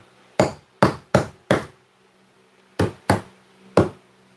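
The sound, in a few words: hammer knocking on a wall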